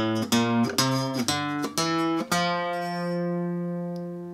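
A bajo quinto plays a major scale starting on F, ringing, plucked notes struck one after another at a steady pace, the last note left to sustain and fade, with no voices.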